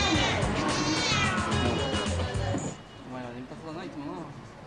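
Cats meow repeatedly at a cat café in Tokyo, several mews rising and falling in pitch, fairly close, while a person talks over them throughout.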